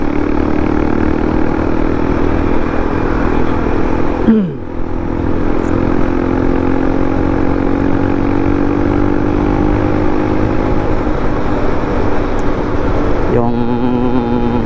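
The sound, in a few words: naked bike motorcycle engine running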